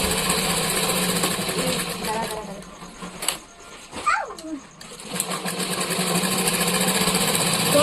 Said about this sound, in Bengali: তো বন্ধুরা এই যে দেখো আমি এখন এইদিকে সেলাই করতে শুরু করে দিলাম